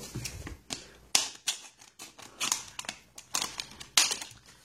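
Scissors snipping through a package, a quick run of crisp, close cuts and crinkles at irregular intervals, with no talk.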